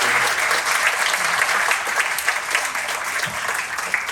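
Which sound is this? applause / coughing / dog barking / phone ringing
applause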